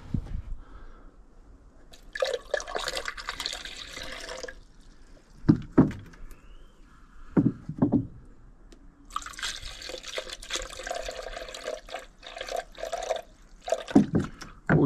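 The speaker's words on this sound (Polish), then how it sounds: "Kurde, do silnika tutaj wodę leje." Water poured through a funnel into a car's cooling system, heard as intermittent bursts of splashing and trickling liquid separated by quieter pauses and a few soft knocks, close to the microphone.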